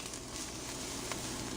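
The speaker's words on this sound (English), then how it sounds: "then we're gonna saute some onions" Onions sautéing in oil left over from frying potatoes, producing a faint, even sizzle that stays steady throughout.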